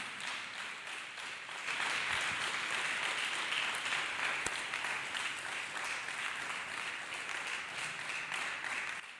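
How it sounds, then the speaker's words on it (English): A church congregation claps and applauds for Jesus Christ during a worship service, sustained hand clapping that swells after a quieter start and continues steadily, a broad crowd sound with no voices. "Clap hands for Jesus Christ"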